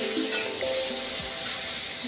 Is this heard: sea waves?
no